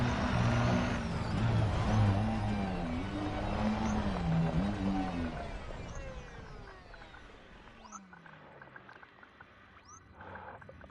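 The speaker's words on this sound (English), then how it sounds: "My engine is too loud." A loud vehicle engine runs steadily with a heavy, droning rumble, close and continuous, easing somewhat toward the end with a few faint higher whines.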